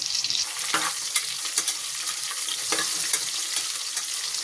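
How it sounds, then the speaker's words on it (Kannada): Two lengthwise-sliced onions fry in a pan for mushroom pulao, giving a steady close sizzle with a few soft scrapes of stirring and no talking. "2 ಈರುಳ್ಳಿ ಹಾಕಿ ಅದನ್ನು ನೀಟಾಗಿ ಫ್ರೈ ಮಾಡ್ಕೊಳ್ಳಿ ಕಲರ್ ಬರೋವರೆಗೂ"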